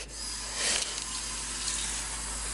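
Tap water running and splashing steadily into a bowl over 55 grams of dry oats in a home kitchen, a continuous broadband hiss with a brief surge in flow, no talking.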